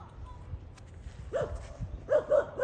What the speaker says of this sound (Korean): 물 보고 짖고 있습니다